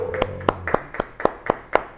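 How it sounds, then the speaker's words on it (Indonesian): Church congregation clapping in a steady, even rhythm of sharp claps about four per second, close and clear, with a brief voice at the start. "Beri tepuk tangan buat Tuhan semuanya."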